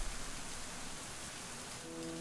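Steady rain falling in a video game scene, a dense, even hiss of drops on surfaces that holds constant and fairly close throughout, with no speech.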